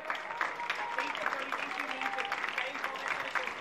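Spectators at a regional athletics meet in Bovolone clap scattered and moderately loud for an 800 m runner entering the final straight, beneath a commentator's continuous talk.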